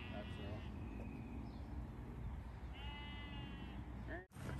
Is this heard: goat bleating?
yes